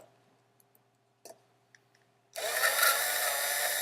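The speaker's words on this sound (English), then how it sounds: "Olivia, you got a drill you could use to maybe try to drill one of these screws" After a few faint clicks, a power drill starts up and runs loud and steady on the screws of a hard drive, heard up close with no talk.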